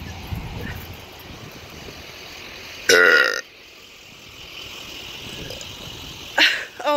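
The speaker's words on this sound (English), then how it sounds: "I'll burp as loud as I can." A loud, short burp erupts close by, followed a few seconds later by a second briefer burp against quiet background noise.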